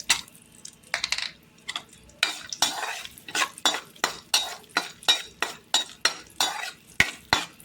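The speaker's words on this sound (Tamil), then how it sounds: "நம்ம ரெடியாக வச்சுருக்கிற முந்திரி, திராட்சையும் இதில் சேர்த்து வறுத்துக்கலாங்க" Cashews and raisins roasting in melted ghee in a pan for pineapple kesari, with a spoon stirring in brisk, regular strokes that make rhythmic scraping swishes and light metallic clinks over a soft sizzle.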